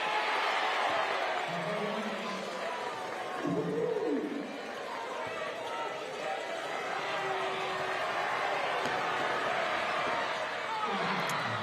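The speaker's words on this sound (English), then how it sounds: "The crowd getting behind that one" Basketball crowd at the Townsville Entertainment Centre roars through a WNBL free throw, a steady wall of chatter and cheering from the arena stands, with bits of nearby speech over it.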